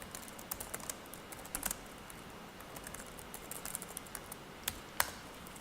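Fast, steady clicking of a computer keyboard as someone writes JavaScript code, the keystrokes light and close with a few louder taps, running without pause over a faint background hiss.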